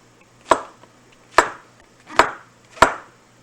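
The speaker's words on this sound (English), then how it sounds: "Mushrooms, I just cut them in half like this and then lay them down, face down." A knife slices halved mushrooms laid face down on a cutting board, giving four evenly spaced, crisp chopping strokes, each with a sharp thud and short decay, close and clear with no talking.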